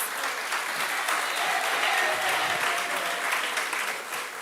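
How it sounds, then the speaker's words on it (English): At the annual general meeting of the Jamaica Civil Service Association, an indoor audience gives a warm round of applause, steady dense clapping held at an even level for several seconds. "Please give him a warm round of applause."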